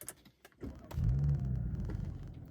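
A Honda CR-Z starting off on a stretch of road, its engine rumbling and building in a low steady drone after a few faint clicks and rustles, heard from close by and fairly quiet, without talk.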